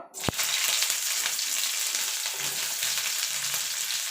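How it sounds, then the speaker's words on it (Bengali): Small cut cauliflower pieces for singara drop into hot oil with a sharp clack, then sizzle steadily and close, with a faint stirring scrape near the end. "প্রথমে ফুলকপিটাকে ভেজে নেব।"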